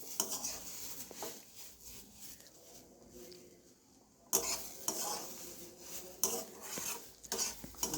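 A spoon stirs and scrapes halwa around a cooking pan in irregular strokes, with soft scraping and clinks, a brief quieter lull midway, then louder stirring resuming.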